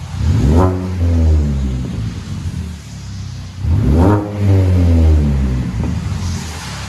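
A 2006 Mini Cooper with a 1.5L engine, six-speed manual and DTM muffler exhaust revs up twice, each climbing to a loud, close roar before falling back to a steady idle.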